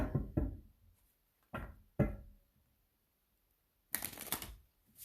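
Several short bursts of tarot cards being shuffled and riffled, with quiet gaps between, ending in a longer flurry of fluttering card noise.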